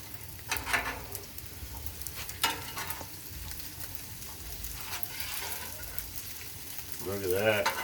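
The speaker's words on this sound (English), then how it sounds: "I'll mix all this pork in this batch right here." Pork fried rice fries on a Blackstone griddle, a loud continuous sizzle with sharp spatula scrapes and clanks at intervals, close up, and a brief voice near the end.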